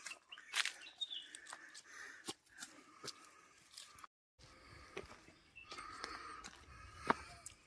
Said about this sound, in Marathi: पक्ष्यांचे अतिशय सुंदर आवाज येत आहे.